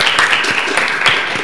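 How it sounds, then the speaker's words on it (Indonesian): A brief burst of loud audience applause at a school talk show, a dense crowd clapping that continues steadily for a moment. "Tepuk tangan."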